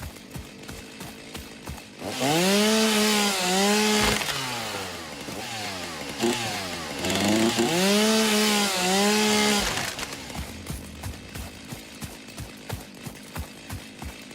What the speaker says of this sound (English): I think they really got the chainsaw sound too